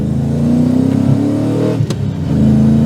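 A V8-swapped R34 Nissan Skyline with a 4.5-litre engine revs and accelerates nearby, its deep throaty note rising in pitch, dipping briefly, then climbing again.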